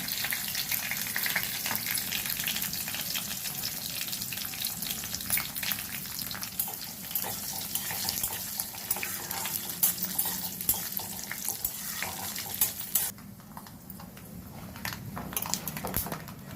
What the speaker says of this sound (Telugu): ఆవాలు, జీలకర్ర కొంచెం చిట్పట్లాడిన తర్వాత